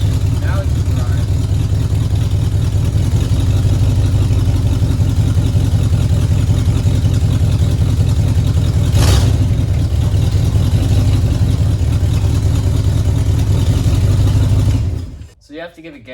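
Ford F-100 pickup truck, revived after sitting for years, running in drive with a steady, loud low engine drone throughout, close by, cutting off near the end.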